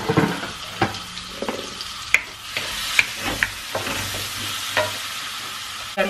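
Onion frying in a little oil gives a low background sizzle broken by sharp, irregular clicks and scrapes of a spoon stirring in the pan.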